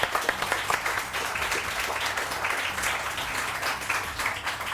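A studio audience at a Pakistani morning television show claps in a dense, steady round of applause, fairly loud and sustained without pause, with no one speaking over it.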